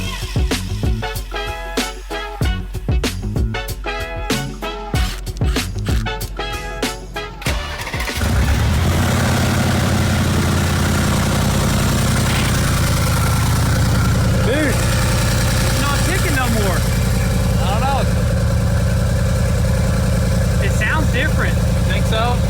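A 2022 Mercedes G63 engine cranks, catches and settles into a steady idle, a loud continuous rumble, with voices talking over it early on.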